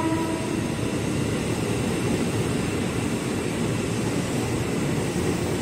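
A KRL commuter train, a 12-car JR 205 series bound for Cikarang, arrives on track 8 at Manggarai station, rumbling steadily nearby, a continuous low rolling roar with faint metallic squeal and hum, no voices.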